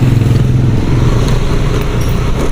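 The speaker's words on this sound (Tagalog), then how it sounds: "May tumutunog na sa motor ko ah." A close, loud motorcycle engine chugs and clatters steadily with a rough, uneven rhythm, suggesting a mechanical fault.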